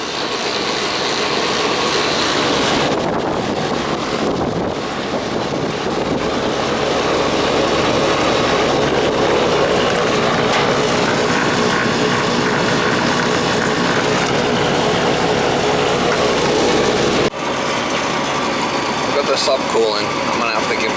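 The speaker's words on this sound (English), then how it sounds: "Sounds like the compressor." An old Ruud air conditioning unit's compressor runs with a continuous mechanical hum and rattle, steady and fairly loud, with a voice heard at times over it.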